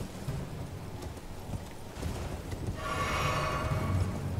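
Horse hooves clip-clop in a steady galloping rhythm in Elden Ring, a moderately loud pattering under game ambience that grows busier toward the end alongside a faint high tone.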